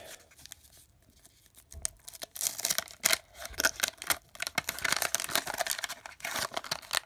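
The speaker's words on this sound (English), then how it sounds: "then we can begin opening these cards" Foil packs of 1991/92 O-Pee-Chee hockey cards being ripped open: quiet at first, then a dense, continuous run of loud close tearing and crinkling wrapper noise.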